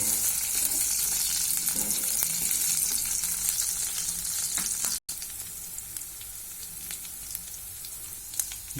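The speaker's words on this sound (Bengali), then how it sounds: "আমরা বাদামটা দিয়ে দিচ্ছি, এগুলোকে ভালো করে ভেজে নেব।" Peanuts fry in oil in a pan with a steady, bright, close sizzle and scattered light ticks from stirring; the sound cuts out for an instant partway through and then resumes.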